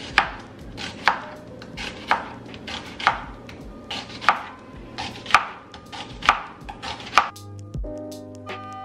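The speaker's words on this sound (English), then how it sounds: "go ahead and chop up some of this onion and put it in one of the plates" A knife chops onion on a plate in a home kitchen, a steady run of about ten crisp, evenly spaced cuts close by, then a brief clatter as it stops.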